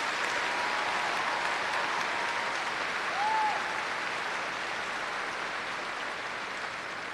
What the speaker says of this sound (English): Please join me in applauding the faculty for their service to OSU